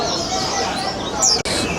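Caged birds at Yuen Po Street Bird Garden in Hong Kong chirp under a dense, loud wash of crowd chatter and ambient noise, with one brief high chirp standing out near the end.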